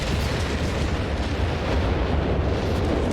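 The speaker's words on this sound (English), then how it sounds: "Just getting relentlessly pounded with artillery" Relentless artillery bombardment in Company of Heroes 3 holds a dense, unbroken roar of overlapping explosions. The blasts are loud and close, and no voices are heard.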